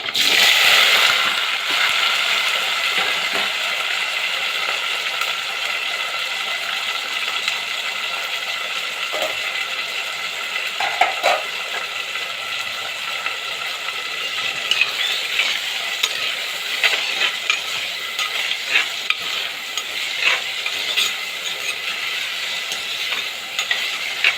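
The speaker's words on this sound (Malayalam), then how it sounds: "ഇതിൻ്റെ അകത്ത് മുരിങ്ങയ്ക്കായും കൊച്ചുള്ളിയും കൂടെ വഴട്ടണം നല്ലതായിട്ട്" Drumstick pieces and shallots sauté in hot oil in a pan, giving a steady close sizzle throughout with occasional stirring scrapes and clinks and no talking.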